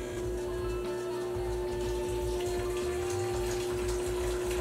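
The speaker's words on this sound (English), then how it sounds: "Oh, you're waiting for water to come out?" Water running from the dispenser of a Whirlpool side-by-side refrigerator while air is bled from a new water line, a steady close trickle and splash with a constant low hum underneath, no talking.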